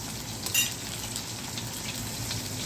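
Garlic frying with chicken and onion for Kuwaiti chicken stew, a dense, steady sizzle close up with a faint clink of a utensil early on.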